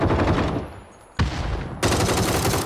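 Machine gun fire in PUBG, three loud bursts of rapid automatic shots, the first fading out, then a short burst and a longer one after a brief gap.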